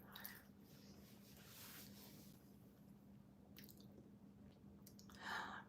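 Close, quiet chewing of a crunchy gluten-free snack, with a few soft wet crunches scattered over a low hum, one louder bite near the end.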